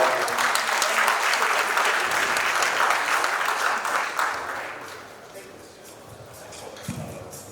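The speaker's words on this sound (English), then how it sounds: "another round of applause for Cody and Brendan." After a talk at a conference, an audience breaks into loud applause that tapers off over several seconds, with voices talking over it.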